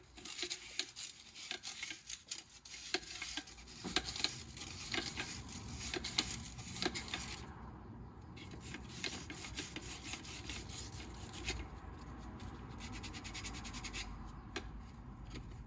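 Sandpaper rubbing the surface of an orange PVC pipe, a faint continuous rasping scratch with quick back-and-forth strokes that thin out at times.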